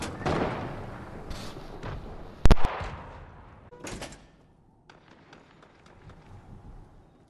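Video game gunfire in a firefight, heard as scattered booms and one sharp loud crack among a rumbling battle background, fading toward faint distant pops.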